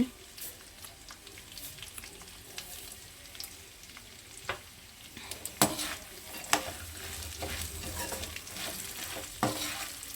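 Curry leaves crackle and fry in hot oil in a pan for poha chivda, a soft continuous sizzle broken by sharp spattering pops and occasional stirring scrapes, close by with no talking.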